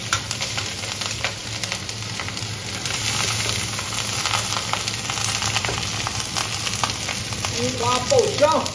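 Chopped scallions crackle and sizzle in hot oil in a wok, a dense, steady frying hiss up close with occasional stirring clicks, no talk over it.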